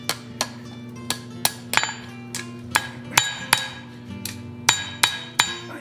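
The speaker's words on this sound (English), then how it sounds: "I'm gonna try to do this all at the anvil here" Hammer striking hot steel on an anvil while forging a fireplace poker, a steady series of sharp ringing metallic blows, about two per second, close and clear over a low hum.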